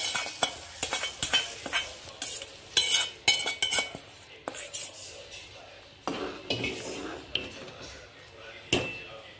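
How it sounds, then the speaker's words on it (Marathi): Vermicelli being stirred in a pan, cooking for a Gudi Padva sweet dish: close clanks and scrapes of a spoon against metal come in irregular bursts over a soft sizzle, with pauses between the stirring strokes. "आणि ह्या शिजवून घेणार शेवया."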